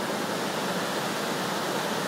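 A winter waterfall on a hiking trail, swollen by heavier rain and melting snow, gives a steady, dense roar of rushing water that holds unchanged from start to end, with no talking.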